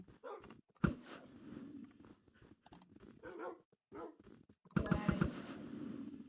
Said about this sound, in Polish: O, znalazłem to miejsce, gdzie pieski!